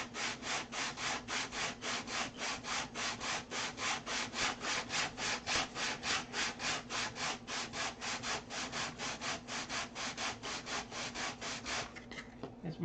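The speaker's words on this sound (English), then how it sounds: "I'm going to sand it until it just starts to show the next color." Hand sanding a control line model aircraft to take off one ply of wood, a steady back-and-forth rasping rub repeated at an even rhythm about three strokes a second, close and moderately loud, with no talking, stopping near the end.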